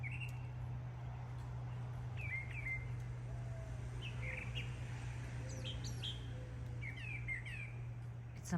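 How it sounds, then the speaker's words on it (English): A mockingbird sings faint, varied chirps and whistled phrases in short bursts over a steady low hum, fairly distant, in a garden. "It's a mockingbird."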